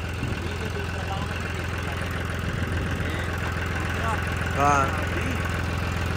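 A John Deere 5310 tractor engine, upgraded to 25 hp, runs at a steady idle during a performance check, a constant low rumble throughout with a voice speaking briefly over it.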